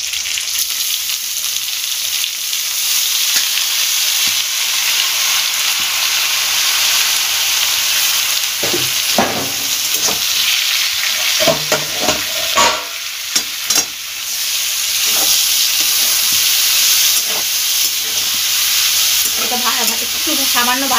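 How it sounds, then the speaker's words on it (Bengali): Cabbage frying in a pan alongside potato, eggplant and flat beans, a steady close sizzle with bursts of stirring and scraping through the middle and toward the end, no talking. "এবার বাঁধাকপিটা দিয়ে একটু ভেজে নেব"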